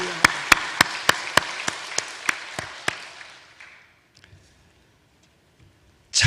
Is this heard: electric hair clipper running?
no